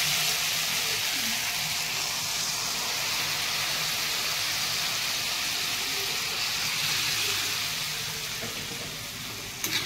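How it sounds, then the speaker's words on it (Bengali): Loud continuous sizzling and hissing fills a pan of kohlrabi, potato and puti fish curry as water goes in, holding steady before easing slightly at the end, with no voices. "এবার আমি জল দিয়ে দিচ্ছি"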